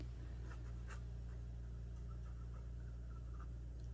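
Pen nib writing on smooth, bright white Tomoe River paper, producing faint, sparse scratchy strokes and light taps close by, set against a steady low background hum.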